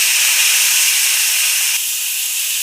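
Soaked raw karamda berries hissing loudly in hot oil tempered with mustard seeds and cumin, a dense, steady sizzle that stays close and fills the whole stretch, easing only slightly partway through.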